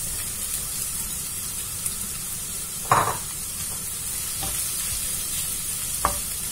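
Mushrooms sautéing in a pan give a steady, close sizzle and hiss, broken by a few sharp clacks of stirring, with no talking.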